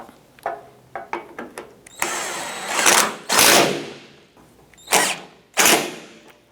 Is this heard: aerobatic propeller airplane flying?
no